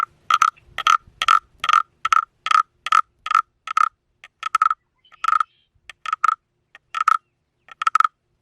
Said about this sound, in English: It makes frog noises.